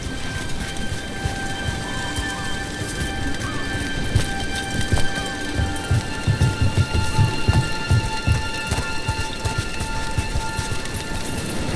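Steady rain pours down with low rumbles of thunder rolling through, dense and continuous, with no voices, in the video game Dragon Age: The Veilguard.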